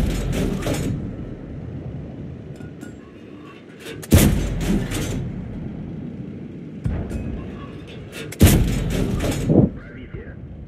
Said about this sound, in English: Okay, artillery strike.